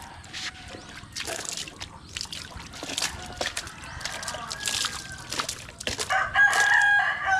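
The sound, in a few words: chickens clucking and rooster crowing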